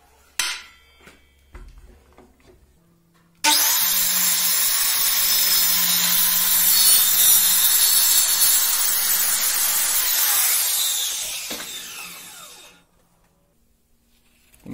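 A power saw rips a long continuous cut through wood along a guide for about nine seconds, loud and close, with a few scattered knocks and taps before it starts and a quiet tail after it stops.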